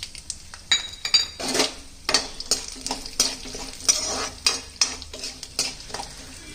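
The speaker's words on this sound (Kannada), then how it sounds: "ಸ್ವಲ್ಪ ಗೋಲ್ಡನ್ ಬ್ರೌನ್ ಬರೋವರೆಗೆ ಹುರಿಬೇಕು." Chana dal sizzles in hot oil with tempering spices and curry leaves, with a spoon scraping and stirring the pan in repeated strokes and light metallic clinks, close and steady, with no voices.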